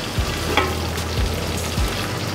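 Carrots, onions and celery frying in a soffritto for a ragù, a steady close sizzle with a few soft stirring scrapes and no talk.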